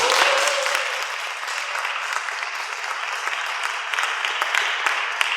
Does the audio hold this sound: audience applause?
yes